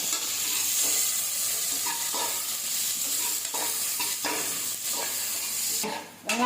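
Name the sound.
onion and green chili sautéing in pan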